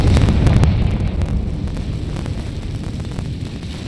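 A Confringo spell explosion in Hogwarts Legacy, a loud low rumbling blast with crackling debris that decays into a sustained roar over a few seconds.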